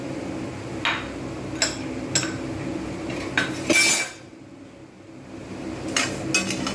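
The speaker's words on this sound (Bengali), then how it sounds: "প্রথমে ফ্রাইং প্যানটা গরম হয়ে গেছে, এতে দেবো আমি গোটা ধনে" Whole coriander seeds go into a hot frying pan, with scattered light clinks and taps of a utensil against the metal, a louder clatter midway, then a brief hush before a few more taps.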